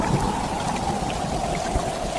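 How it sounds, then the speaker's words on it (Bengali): Heavy evening rainstorm pouring down in a steady, dense roar of falling water that holds at an even, loud level throughout, with no voices. "সেদিন সন্ধ্যা থেকে শুরু হলো খুব ঝড় বৃষ্টি।"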